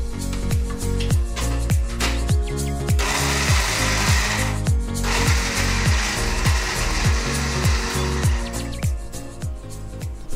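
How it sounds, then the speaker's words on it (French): Kitchen blender chopping ingredients while a meal is prepared for homeless people in Pattaya, Thailand: a loud, steady motor whir with rhythmic chopping pulses that surges louder in the middle, running continuously with no talking. "Et il faut hacher tout ça. Donc on va utiliser un"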